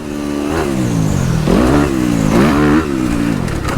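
A dirt bike engine on a motocross track revs loudly and close, rising and falling in repeated surges as the rider downshifts through the gears.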